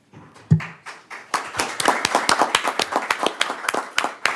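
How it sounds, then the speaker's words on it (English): Audience applause at a community association's annual meeting: a few scattered claps build quickly into steady, fairly close clapping from a crowd that keeps going to the end, with no talking over it. "he got applause twice"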